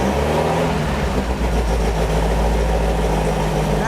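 Beck 550 Spyder replica's four-cylinder engine running steadily after carburetor adjustment, a loud, close, low rumbling idle with a rough pulsing texture and no speech.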